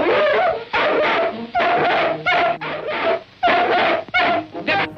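A cartoon dog whimpers and yaps in a string of short, high, whiny bursts separated by brief gaps, loud and close, with no speech.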